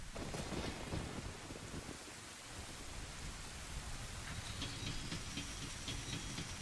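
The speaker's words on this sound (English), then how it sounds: "and now it's raining" Rain and thunder in a Nintendo video game form a steady dense patter, with low rumbling underneath and no voices.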